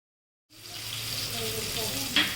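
Sliced onions and green chili sautéing in a pan for Madurai-style parotta salna, a steady close sizzle starting abruptly after a brief silence, with a short scrape of stirring near the end.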